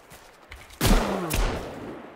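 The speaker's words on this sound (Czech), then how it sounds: "Chci slyšet střelbu." Two sharp, booming gunshots about half a second apart, each followed by a short ringing decay, from the video game Sons of the Forest.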